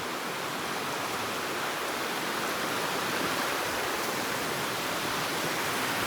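A mountain stream on the Kephart Prong Trail in the Great Smoky Mountains rushes steadily and loudly, a continuous broad roar of flowing water without pauses or voices.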